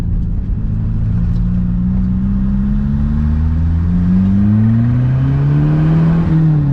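A turbo diesel engine in a Mk3 MR2 revs hard under more than 2 bar of boost, a loud, close, continuous drone whose pitch climbs steadily and then levels off near the end.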